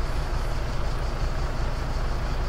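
A military truck in the video game Just Cause 2 rumbles with a steady, loud low engine drone, unbroken and close throughout.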